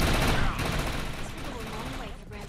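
Dense, rapid gunfire rattles throughout a shootout against mutants in the video game Defiance, continuous bursts layered over one another with possible talk mixed in.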